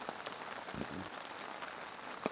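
Rain patters on surfaces at a dispersed campsite, a soft steady hiss broken by a few scattered louder drops. It stays faint and close, with no talking.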